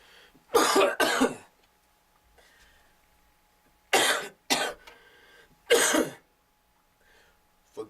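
A man coughs in harsh bursts: two close together, a pause, then two more and a final one, each loud and near with quiet gaps between.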